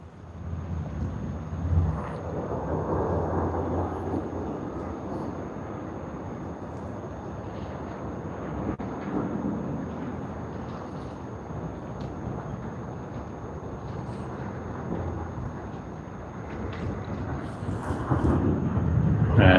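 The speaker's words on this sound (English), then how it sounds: "we have a Sydney to Adelaide service on its Boeing 737-800 QF735 Qantas" Qantas Boeing 737-800 jet at Sydney Airport during early-morning peak hour, a steady broad engine roar with wind buffeting, building louder toward the end as the aircraft draws nearer.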